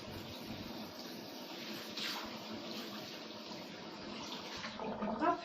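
Tap water runs steadily into a bathroom sink during face washing, a close continuous splashing hiss with small surges and gurgles toward the end.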